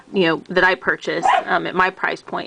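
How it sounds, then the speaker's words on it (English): A pet dog plays and barks indoors, with yips and barks mixed in under a person talking steadily in the foreground. "If you can hear all that noise, that is my dog playing."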